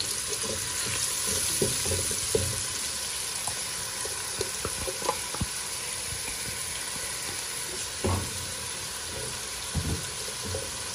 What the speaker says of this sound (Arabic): هنزل كده بشويه زيت اهو. بصله بقى متقطعه كده شرايح صغيره مفرومه كده اهو، ننزل بيها